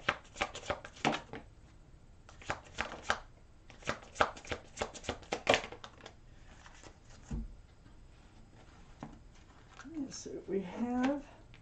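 Tarot cards shuffled by hand at close range in a run of quick, crisp riffling bursts, followed by a soft voice speaking as the shuffling fades.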